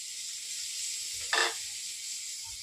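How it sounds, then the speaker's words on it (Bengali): Soaked green peas going into a hot pan on medium flame: a quiet, steady hiss, then a short, sharp burst of sizzle as the peas hit the oil, settling back to a faint sizzle. "এবার ভিজে রাখা মটরশুঁটিগুলো দিয়ে দেব"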